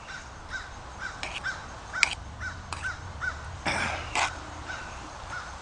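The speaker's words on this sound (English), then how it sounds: "I'm sure the crows would come over and get it if they could get it." Crows caw outdoors in a series of short, harsh calls, several in quick pairs and runs spread across the stretch, moderately near, over faint background noise and with nobody talking.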